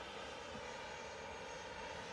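A Pilatus PC-24 business jet at Manchester Airport produces a faint, continuous engine drone, steady and distant, with no talking.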